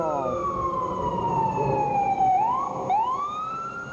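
Emergency vehicle sirens on a New York City street, a loud close wail that sweeps down and then abruptly rises again, with traffic rumble beneath.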